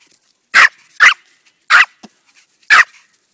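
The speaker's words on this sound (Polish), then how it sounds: "Dobry piesek, dobry zostaw." Small Prague ratter barking close and loud, four sharp yapping barks spaced unevenly with quiet gaps between them.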